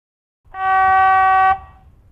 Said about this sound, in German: Signalhorn tief.